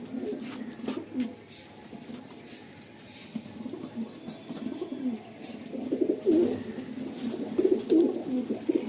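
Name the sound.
high flying Andhra pigeons released from cage, wings flapping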